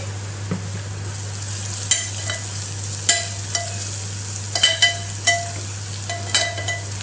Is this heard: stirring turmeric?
yes